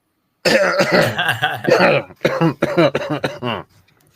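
A person coughs repeatedly in a close, loud fit of harsh, rasping coughs and throat clearing, then it stops.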